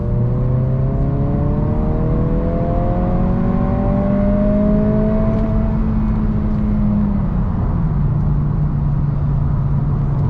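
A tuned 2022 Honda Civic Si, 11th generation and boosted to 23 psi, is floored in third gear from about 3,000 rpm. The engine note climbs steadily in a loud, continuous rising drone with whir from inside the cabin and no talking.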